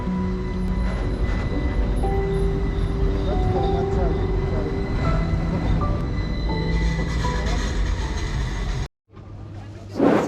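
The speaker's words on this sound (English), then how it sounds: "Charlie, he wants to see the tram" A tram rumbles past close by in Timisoara, Romania, with low rolling noise and faint wheel squeal, amid busy street sound and some voices, then briefly cuts out.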